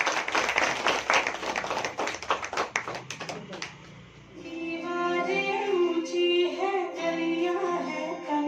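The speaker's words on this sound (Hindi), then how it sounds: "तालियां बजाते रहिए।" Audience applause in a hall at a Women's Day programme, dense clapping for about four seconds, then a sustained tonal musical sound takes over.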